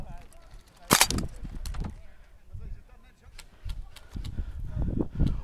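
Airsoft guns fire at an outdoor skirmish game, with one loud, sharp crack followed by scattered fainter pops and clatter while players talk nearby.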